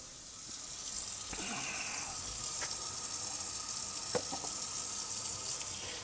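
A tap runs steadily for a final rinse of developed photographic film, with a constant hiss of flowing water and a few faint clinks; no talk.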